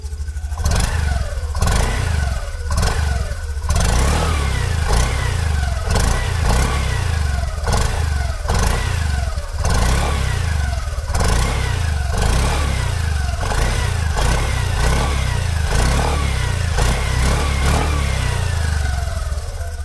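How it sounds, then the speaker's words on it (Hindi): Exhaust note of a Honda Grazia BS6 scooter being revved repeatedly, a series of short throttle blips rising and falling over a steady low idle, close and loud with no speech. "इसकी जो एग्जॉस्ट साउंड है दोस्तों वो सुना देता हूं आपको"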